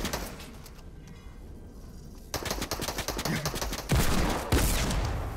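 Gunfire in the video game Fortnite, including a Deagle pistol: a quieter stretch gives way to rapid cracking shots and loud bursts, growing louder toward the end.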